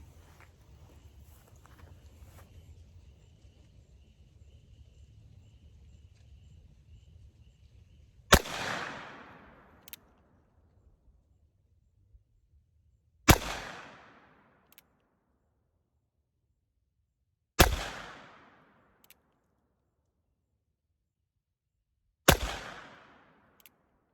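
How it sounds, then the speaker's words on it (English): A Cimarron 1851 Richards-Mason revolver fires .38 Special rounds outdoors: four loud, sharp single shots spaced several seconds apart, each with a short decaying echo, after a quiet low hum. "shooting 38 specials"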